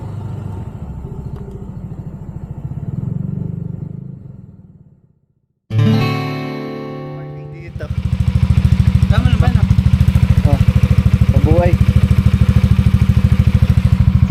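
A motorcycle engine rumbles and putters close by on a muddy road, cutting out briefly before starting back up into a loud, steady idle with voices talking over it.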